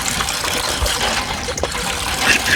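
Water gushes steadily from a hand pump (nalka) in a continuous splashing trickle that runs close by for the whole stretch, with no voices over it.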